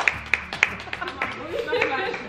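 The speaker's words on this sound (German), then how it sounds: "Ja, Applaus." A few sharp, separate hand claps ring out close by, then fade into a looser patter as people talk over the clapping in a home.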